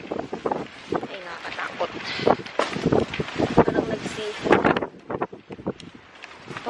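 Strong gusty wind roars outdoors on a cold day in Canada, with broadband rushing and buffeting over the microphone while someone speaks through it.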